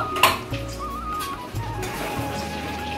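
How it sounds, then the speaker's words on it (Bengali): A metal lid clanks onto a cooking pot of handi chicken on a gas stove, with a sharp close clatter followed by softer rattling and a faint sizzle underneath. "ঢাকা দিয়ে দিচ্ছি।"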